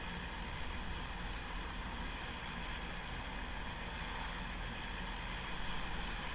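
Airplane droning steadily overhead in the PUBG battle royale game, a continuous even engine and propeller roar with no pauses or talk.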